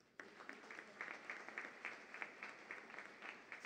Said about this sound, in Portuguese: que eu queria pedir uma salva de palmas.